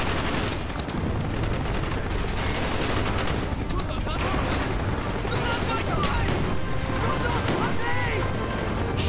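Rapid bursts of automatic gunfire and crackling shots from a Call of Duty: Black Ops village firefight, dense and continuous with louder volleys scattered throughout, set against rumbling game noise and background voices.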